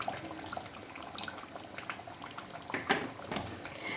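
Yogurt hits beef karahi in hot oil, giving a faint, busy sizzle and bubbling crackle that pops irregularly throughout.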